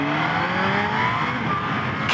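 A Kawasaki Z H2 motorcycle engine revs up steadily during acceleration, its pitch climbing in rising harmonic lines, loud and continuous throughout.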